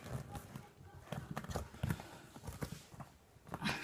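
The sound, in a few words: scissors cutting football material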